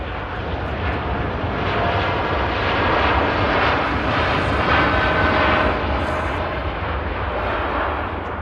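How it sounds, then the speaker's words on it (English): A Boeing Dreamliner jet departs Manchester Airport, its engines producing a constant, heavy broadband roar that stays loud and steady throughout, with no speech. "This Dreamliner out to Montego Bay."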